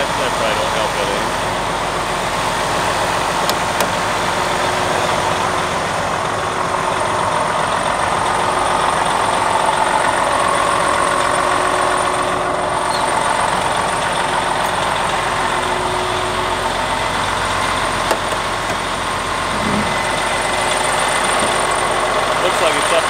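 A truck engine droning steadily while cruising at 55 mph, a continuous loud in-cab rumble with road noise throughout, as people talk over it.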